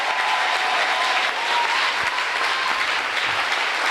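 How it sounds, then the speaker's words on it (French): A church congregation applauds the Lord in loud, dense, continuous clapping that fills the room evenly from start to finish, with no voice standing out. "Quelqu'un acclame le Seigneur."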